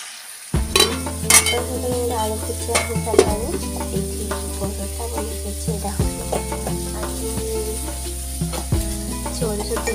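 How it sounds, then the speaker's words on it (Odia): Chilli frying with green chillies, onion and sauce in a pan, a steady close sizzle broken by repeated scraping and clanking stirs, with no speech. "ଲଙ୍କା କଞ୍ଚା ଲଙ୍କା ପିଆଜ ଆଉ ସସ୍ ଦେଇକି ମୁଁ ଏଠି ଚିଲି ବନେଇ ନେଲି"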